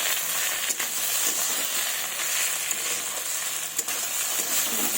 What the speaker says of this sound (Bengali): এবার ভালোভাবে মশলাটাকে কষিয়ে নেব, নাড়াচাড়া করে নেব ভালোভাবে।